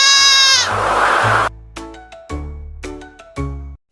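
A goat bleats while out grazing with a pet monkey. A long wavering cry comes first, then several short nasal bleats in uneven bursts, loud and close with no talking.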